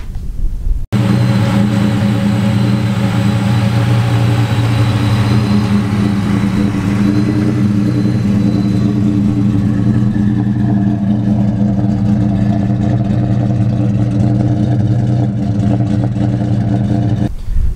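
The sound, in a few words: supercharged AU car engine driving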